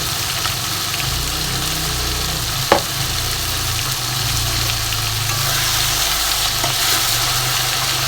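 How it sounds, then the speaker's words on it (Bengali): Fried potatoes added to a rohu fish head curry simmering in a pan, a loud steady frying hiss with a low hum beneath and a single sharp clatter. "এর মধ্যে এবার ভেজে রাখা আলুগুলো দিয়ে দেবো।"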